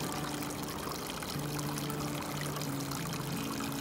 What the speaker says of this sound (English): It's a really, really good bubbling spring right there.